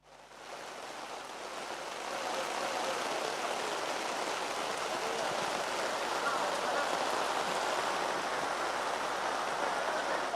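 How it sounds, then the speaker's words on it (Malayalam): Heavy rain falls in Alappuzha as a dense, steady hiss that swells during the first two seconds and then holds loud and even to the end. "ആലപ്പുഴയിലെ സാഹചര്യം നല്ല മഴ കാണുന്നുണ്ടല്ലോ"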